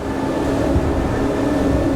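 A 2019 Greenline NEO boat's engine revving near 4,000 rpm gives a steady, loud drone with a sustained hum and constant rumble, holding at a high, even pitch throughout with no voices.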